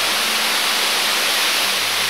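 Huai Mae Khamin waterfall in Kanchanaburi, Thailand, a dense, steady roar of rushing water filling the scene, loud and unbroken under an overcast sky.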